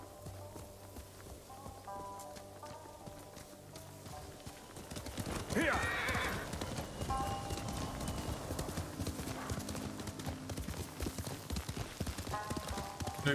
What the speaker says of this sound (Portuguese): Vamos ver cavalinho.